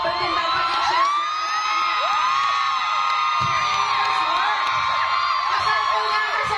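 A fan meeting crowd in Manila cheering for Junho, dense and loud, with high-pitched screams, whoops and shouts blending into a continuous roar.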